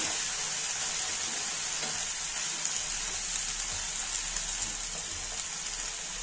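Carrot and bean stir-fry being mixed in a pan after a cup of water is added, giving a steady wet sizzling hiss with soft stirring scrapes throughout, close and even, with no talking.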